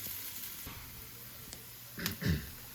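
Chow mein noodles for beef chow mein fry in oil toward crispness, giving a faint, steady sizzle close by, with a couple of sharper crackles near the end.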